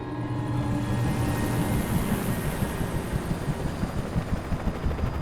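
Helicopter in the video game Alan Wake 2, a loud, continuous rotor and engine roar with rapid low thudding that fills the whole stretch, close and steady with no voices.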